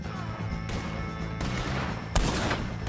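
Gunfire in a shootout with O'Driscoll gang members in a video game: several loud, close bursts of shots, each landing as a sharp attack over a constant background of battle noise.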